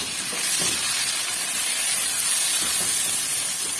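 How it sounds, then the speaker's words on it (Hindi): Tomatoes go into a hot pan of garlic and ginger, giving a steady, loud hissing sizzle that runs evenly throughout, with a few soft knocks underneath and no talking. "अब मैं इसके अंदर टमाटर डाल दूंगी और इसको हिला लूंगी।"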